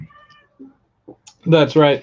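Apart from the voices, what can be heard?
cat meowing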